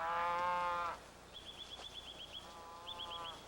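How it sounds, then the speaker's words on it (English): Cattle on a Hokkaido farm being turned out to pasture beside a copse: one long, close moo at the start, then faint bird chirps and another distant, softer moo trailing in. "she's accustomed to the commotion of cattle being turned out to pasture beside the copse"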